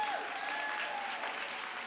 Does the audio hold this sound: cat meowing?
no